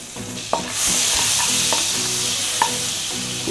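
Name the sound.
butter sizzling in pan for Japan chicken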